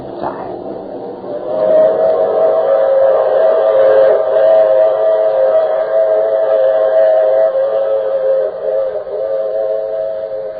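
In an old radio drama, a train rumbles steadily while its whistle blows a long, loud, sustained chord that wavers slightly over several seconds.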